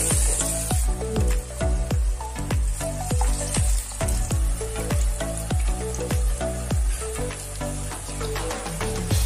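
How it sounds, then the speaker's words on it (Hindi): Chana saag pakoras fry in hot oil in a kadhai over a medium flame, a continuous sizzle and hiss under prominent rhythmic background music. "तेल हमारा अच्छी तरीके से गर्म हो गया है। अब फ्लेम को थोड़ा मीडियम कर देंगे और इस तरीके से पकौड़े डालेंगे।"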